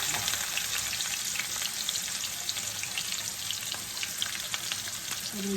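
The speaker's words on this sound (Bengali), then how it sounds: "সেখানে একটু আমি হালকা একটু জিরা ফোড়নি দিব আর সেই যে পেঁয়াজ রসুন কাঠটা রাখছি সেগুলি দিয়ে করে দিচ্ছি" Cumin seeds, onion and garlic temper in hot oil in a kadai, a dense continuous sizzle with crackling pops and occasional stirring, close and even in loudness, with no talking.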